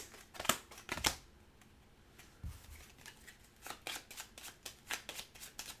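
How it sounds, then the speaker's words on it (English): Playing cards shuffled back into a deck during a tabletop card game, with a few sharp riffling bursts early, a pause, then a run of quick, crisp flicks and snaps close by. "cards that were replaced are shuffled into the deck"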